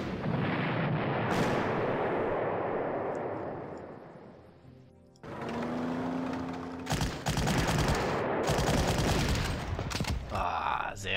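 Artillery fire in the Panzer Corps strategy game, heavy booming rumble that fades, then crackling volleys of rapid shots and blasts, loud and with no voice.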